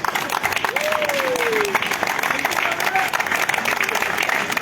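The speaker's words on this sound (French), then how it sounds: "viens qu'on te salue, viens qu'on t'applaudisse." Crowd applause for Boyu Gérard at a political rally in Adjamé, dense and steady throughout, with a sustained whistle tone sliding down early on and a brief voice near the end.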